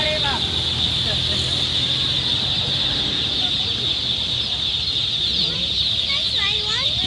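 Many chickens clucking around a yard in Hinaplanon, Iligan City, in the Philippines, a steady busy flock sound with a strong high insect-like drone throughout and people talking nearby.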